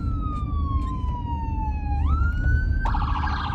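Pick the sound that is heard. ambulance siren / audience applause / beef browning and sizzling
ambulance siren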